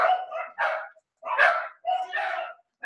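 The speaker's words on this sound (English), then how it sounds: "I don't know if you can hear my dogs barking" Dogs bark in quick bursts of several sharp barks separated by short pauses, loud and close, with no speech over them.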